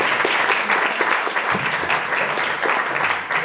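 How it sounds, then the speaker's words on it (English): Loud, lively applause from an audience at a church speaking event welcoming a man named Dave, with individual claps clearly distinct in a fast, uneven rhythm throughout. "Round of applause for Dave."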